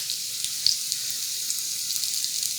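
Apple pie egg rolls frying in overly hot oil, a steady dense sizzle and hiss with small crackling pops running throughout, close and fairly loud, with no talking.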